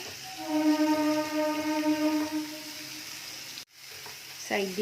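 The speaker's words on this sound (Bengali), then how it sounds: "প্রত্যেকটা মশলা ভালোভাবে কষে নেব কিছুক্ষণ।" Spice masala and tomato sautéing in oil for a dhaba-style egg curry, a loud, close, continuous sizzle with stirring, dropping out briefly near the end before resuming.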